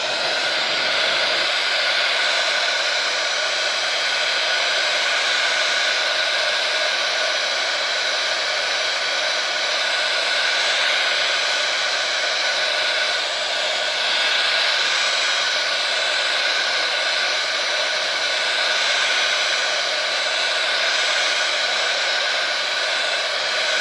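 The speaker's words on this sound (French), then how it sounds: "Je vais à nouveau utiliser le pistolet à la chaleur." A heat gun blows continuously over a small mixed-media canvas on an easel, a loud, steady, close whooshing roar that holds throughout with only slight wavering and no talking.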